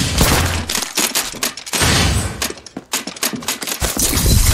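Gunfire in the Apex Legends video game, loud dense bursts of rapid shots and impacts in several close volleys with brief pauses between them.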